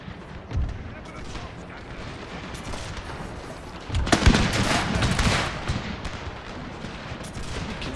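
Cannon and musket fire crackle and boom across a Total War battlefield set in the Thirty Years' War, with a low thump early on and then a denser volley of shots, all at moderate, distant-sounding loudness.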